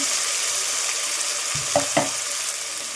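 Tomatoes for a potato and peas curry frying in a pan give off a continuous close hiss, with a couple of soft stirring knocks near the middle and no talking.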